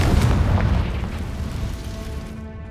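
A Confringo blast from the video game Hogwarts Legacy hits as a single heavy, booming explosion with a low rumbling tail that slowly fades.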